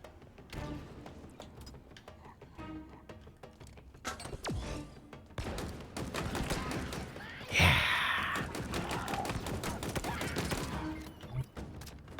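Gunfire in the video game Halo Infinite shoots through a shield, with rapid bursts of shots and heavy thuds over game background sound, loud and close, rising into a dense barrage midway.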